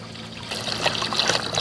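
Water poured into a pressure cooker holding a rack and three cans: a short, close trickle that swells into a steadier splashing pour after a quiet start, no talk.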